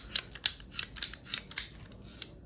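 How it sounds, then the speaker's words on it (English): An Amazon Basics golf ball being cut open with a blade or scissors: a series of about eight sharp, gritty snipping clicks at irregular intervals, close and fairly quiet, with no talking. "We are cutting open an Amazon Basics golf ball."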